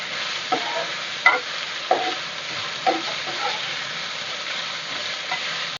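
Tomatoes seasoned with salt stirred and sautéed in a pan while making mutton gravy, a steady soft sizzle broken by several distinct scraping stir strokes, close and alone with no talk.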